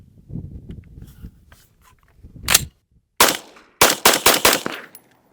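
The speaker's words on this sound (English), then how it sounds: "It's probably been like 2 years since I've shot this gun unsuppressed, and I don't. We got a muzzle brake now, so let's feel it." A rifle fitted with a muzzle brake fires unsuppressed, giving several loud, sharp cracks close by, one after another, with quieter low rustling and handling sounds before the shots.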